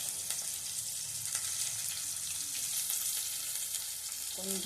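Green chillies sizzle steadily in a hot pan, a continuous close frying hiss with a few light scrapes, no talking.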